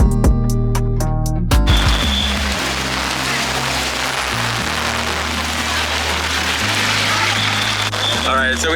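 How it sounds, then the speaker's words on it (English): Heavy downpour in Phuket during the rainy season, a dense steady hiss of rain that starts abruptly and continues under music. "It started raining so hard."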